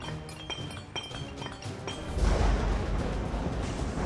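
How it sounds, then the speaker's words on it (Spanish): Magical bubble crystals in an animated children's show break apart: a series of bright glassy clinks and taps, then a louder, sustained crunching shatter as they crumble into tiny pieces. "romper sus cristales de burbuja en pequeños pedazos diminutos"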